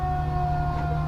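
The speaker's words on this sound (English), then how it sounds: "So I heard sirens outside, and yeah, there's a parade going by my shop." Sirens from a parade passing outside a shop, a steady wailing tone held over low traffic rumble, muffled as if heard through walls.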